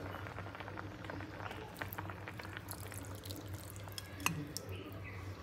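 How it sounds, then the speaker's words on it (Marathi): Thick leftover dough water is poured into shengole (Maharashtrian spiced dough coils) for a toddler's meal, giving a faint, soft liquid pour with light drips over a low steady hum, with no talking. "हे पाणी आपण टाकणार आहोत आपल्या शेंगोळ्यामध्ये"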